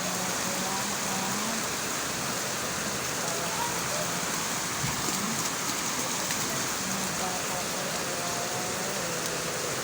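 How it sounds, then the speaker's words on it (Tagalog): Dense, steady hiss of heavy rain pours down without break, a constant wash of falling water with a faint low rumble underneath. "bigla naman baksak ng malakas na ulan"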